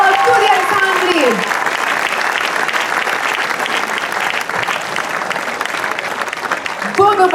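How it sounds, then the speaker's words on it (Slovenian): A crowd at an awards ceremony of the Vurberk 2022 festival claps for the band. The applause is loud, sustained and even for several seconds, and a voice is faintly heard near the start and again at the end. "Močan aplavz! Zdaj ploskamo tudi ansambli."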